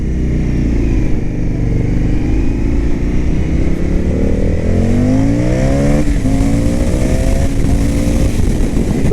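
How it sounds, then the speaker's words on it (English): An Indian FTR S motorcycle in sport mode revs hard and climbs steadily in pitch through its gears, loud and close, with a brief dip at each shift. "I'm going to put it into sport mode, give you a little bit of a sport mode acceleration run here"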